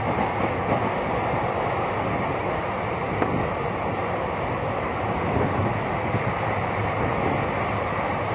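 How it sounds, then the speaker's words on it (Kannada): The Siddaganga Express stands at Ajjampura railway station in a forest setting, heard from aboard as a steady, continuous rumble of the train with faint clatter, no talk. "ಸೊ ಟ್ರೈನ್ ಇವಾಗ ಅಜ್ಜಂಪುರ ರೈಲ್ವೆ ಸ್ಟೇಷನ್ಗೆ ಬಂದಿದೆ"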